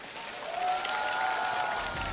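A studio audience at a televised singing competition claps in a sustained wash of applause, with a faint tone running underneath.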